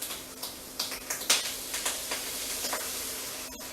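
Cooking cream pours into a hot pan for Asian-style spaghetti carbonara, raising a steady close sizzle with repeated small pops and crackles throughout.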